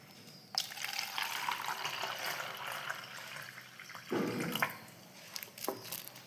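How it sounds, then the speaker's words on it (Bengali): Water poured from a vessel into a container, a steady close splashing trickle that runs for several seconds and then tapers into a few separate splashes and drips. "এই জলটা আমরা এর ভেতরে নিয়ে নেবো।"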